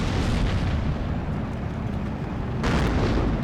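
Artillery fire and explosions from a 10v10 Steel Division 2 battle on the Slutsk map form a loud, sustained rumbling barrage with heavy low booms, swelling again near the end, without any voices.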